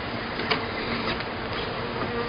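Bees hum steadily during a backyard hive inspection, a continuous close buzzing drone lasting a couple of seconds with slight swells and no talk.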